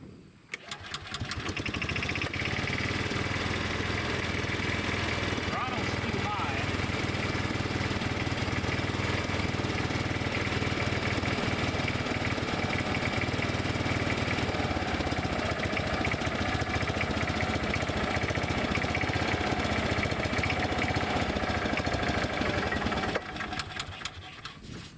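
A Bobcat Pioneer utility vehicle engine idles continuously and steadily close by for about twenty seconds, a dense mechanical drone with no talking, ending with a brief drop-off.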